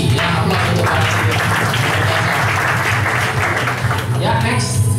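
Audience applause for a team of leaders at a company results meeting: a steady, dense burst of many hands clapping at close range for about five seconds, loud throughout and tapering slightly at the end as a voice comes in.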